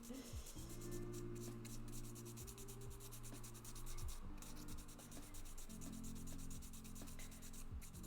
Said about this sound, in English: I use 400 grit sandpaper. So it's not too harsh